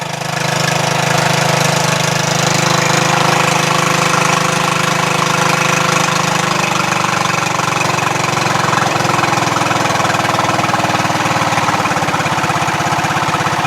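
A Craftsman LT1000 lawn tractor engine idles steadily and loudly up close, with a smooth, even rumble and no surging throughout, alone without talk.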